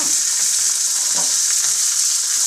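Homegrown bitter gourd frying in a pan for theeyal gives a loud, even, continuous sizzle, hissy and crackling throughout with no voices.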